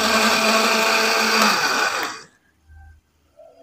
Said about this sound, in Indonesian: Nah, ini dia di blender.